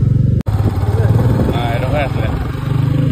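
A motorcycle engine drones on a road with a low pulsing throb, close and loud; someone talks over it through much of the stretch.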